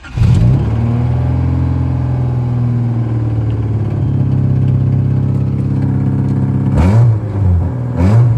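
A Honda Civic with a straight-pipe, open-header exhaust fires up and idles loudly with a deep, steady drone, then gets two sharp revs near the end.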